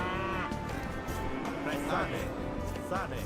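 Cattle lowing in the Age of Empires II Definitive Edition strategy game, a few drawn-out moos rising over dense game music and ambience while someone talks throughout.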